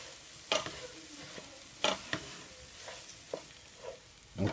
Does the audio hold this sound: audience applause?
no